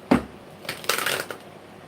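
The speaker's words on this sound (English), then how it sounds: "It was a funky shuffle" Tarot cards being shuffled in a few quick riffling bursts, close and fairly quiet, with brief pauses between the flurries and no voices.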